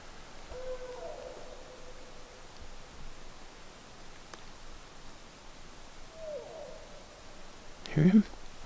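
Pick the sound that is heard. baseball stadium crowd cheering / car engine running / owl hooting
owl hooting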